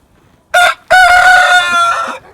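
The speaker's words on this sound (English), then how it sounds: "That was a lot of noise coming from a little chicken." A small chicken crows loudly and close by: one short burst, then a longer drawn-out crow with a wavering end, with no talking.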